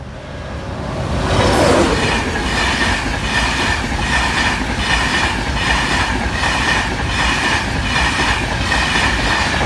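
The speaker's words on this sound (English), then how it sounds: "here's first the Newcastle train" A passenger train with a class 91 locomotive rumbles past close by at a level crossing, a steady loud roar with rhythmic clattering of wheels over rail joints throughout.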